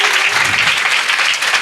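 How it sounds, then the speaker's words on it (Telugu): A church congregation gives loud, dense clapping at a New Year festival worship service, sustained steadily through the short moment without talk. "బిగ్ క్లాప్స్ ఒక్కసారి."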